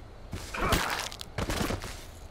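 Gunfire in the zombie survival game H1Z1 comes as two loud, close bursts of shots, each with a sharp attack and a short rumbling tail, with a brief gap between them and no talk.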